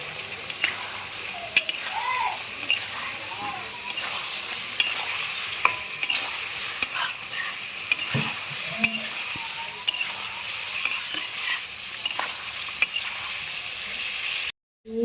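Potatoes for Kashmiri dum aloo are sautéed in a pan, with a constant frying sizzle, repeated scrapes and clinks of a spoon stirring, and someone talking intermittently over the cooking.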